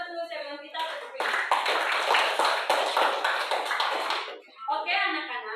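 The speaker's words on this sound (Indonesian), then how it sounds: "Beri aplaus dulu sebelum kita tutup ini." Classroom of students applauding at the end of a lesson, a burst of brisk, dense clapping lasting about three seconds, with a teacher's voice speaking before and after it.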